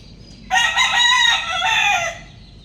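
A rooster crows loudly and close by in a backyard chick pen, one long drawn-out call lasting about a second and a half, with no other sound around it.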